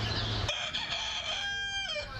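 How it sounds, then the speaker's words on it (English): A rooster crows once at dawn on a farm, a loud, clear cock-a-doodle-doo with rising and falling tones, close by and alone without talk. "we all know that roosters can make a racket yes, at they dawn"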